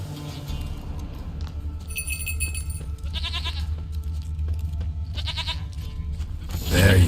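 A goat in the Witcher 3 video game bleats twice amid a steady game ambience, each call a short quavering burst, with a faint mechanical ratcheting sound and a louder rise at the end.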